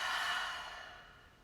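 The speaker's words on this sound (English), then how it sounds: "Exhale it out your mouth" A single long breath exhaled out through the mouth during a guided mindfulness breathing exercise, a soft airy rush that starts fairly strong and fades gradually, heard alone without talk.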